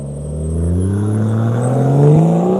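A race car, a Corvette on Michelin tyres, accelerates away on a wet skid pad, its engine rising steadily in pitch through the gears, loud and close, with no talk.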